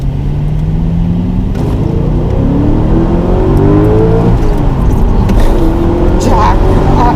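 Supercharged 600 hp Audi RS4 B7 accelerating hard at full throttle, a loud steady engine roar with rising whine climbing in pitch, heard from inside the car while people talk over it.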